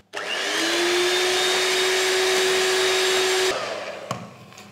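An electric beater whirs loudly and steadily for about three and a half seconds, whipping a chilled strawberry dessert mixture with added sugar, then cuts off, leaving a faint clatter behind.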